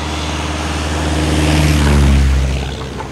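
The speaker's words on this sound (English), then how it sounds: "the methods used to spray these chemical products, not just on the ground, but also by plane, crop dusting, as this recent video shows" Crop-dusting airplane flying low over a plantation while spraying pesticides, a loud steady propeller-engine drone that swells toward the middle and fades slightly, with no voices.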